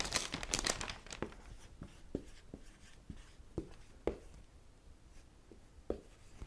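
Brown paper lunch bag being handled up close, with a burst of crinkling at first and then scattered soft rustles and crisp taps, quiet and alone.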